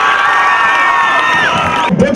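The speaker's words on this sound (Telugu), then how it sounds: "చప్పట్లతో వెల్కమ్ చెప్పండి." A school audience at Kakathiya High School in Piler cheers and shouts loudly, with children's high whoops and whistles rising over a dense crowd roar that runs steadily before a brief dip near the end.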